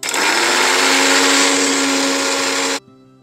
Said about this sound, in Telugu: ఇలా మిక్సీ పట్టిన తర్వాత పౌడర్ అయినాక ఇప్పుడు నీళ్లు పోసి మొత్తం ఫైన్ పేస్ట్ చేయాలి